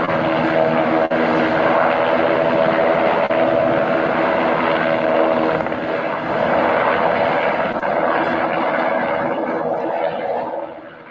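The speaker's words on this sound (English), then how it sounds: "that's apparently what these helicopters were doing." Helicopters hover low over the ground near Durham, Connecticut, making a loud, steady rotor and engine drone that stays close overhead for about ten seconds and then begins to fade.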